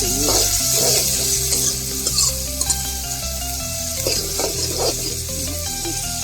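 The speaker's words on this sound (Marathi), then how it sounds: "कोथिंबीर थोडी टाकली, मिक्स करायची." Coriander is stirred into a simmering tilapia fish curry with a spoon scraping and clinking against the pot over a continuous sizzle, close and fairly loud throughout.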